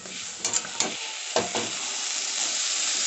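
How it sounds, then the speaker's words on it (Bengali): Fish head and taro leaves are stirred in a frying pan over a steady sizzle, with several distinct scraping strokes early on before the hiss settles into an even fry. "আবারও খুব ভালোভাবে মিক্সড করে নেব"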